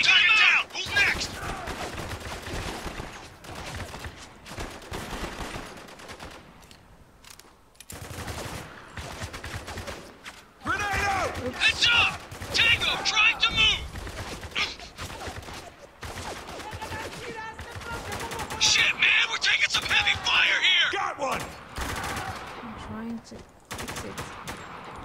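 Gunfire in Spec Ops: The Line comes in repeated loud automatic bursts and volleys with brief gaps between them, while voices shout over the shooting.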